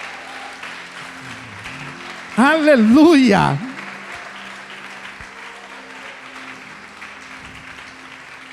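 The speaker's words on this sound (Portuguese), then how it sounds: "Pode aplaudir, glorificá-lo" A church congregation applauds in a steady, moderate wash of clapping through a worship service, briefly topped by a single loud shouted voice near the middle.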